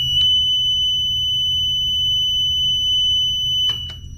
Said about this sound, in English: So now that my alarm system is quiet and reset,